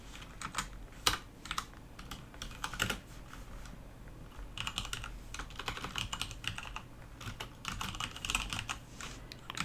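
Continuous bursts of typing on a computer keyboard while entering Python code, rapid clustered keystrokes with brief pauses between runs, close and fairly quiet, no talking.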